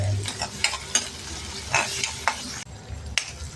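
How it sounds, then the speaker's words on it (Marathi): Finely chopped tomato and onion sautéing in a pan for dal palak, a steady sizzle and frying crackle broken by several stirring scrapes and clinks, close and fairly loud. "आता आपण याच्यात एक बारीक चिरलेला टोमॅटो घालू. तो पण छान परतून घ्यायचा आहे"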